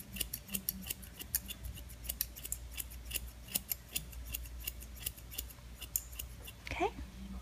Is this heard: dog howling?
no